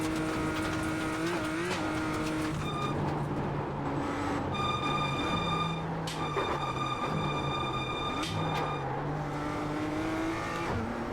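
A Toyota GR86 runs laps at Mugello, its engine note rising and falling with gear changes while it scrubs wide through corners under understeer, loud and steady throughout.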